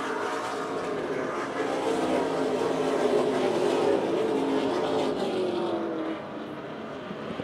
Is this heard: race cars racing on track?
yes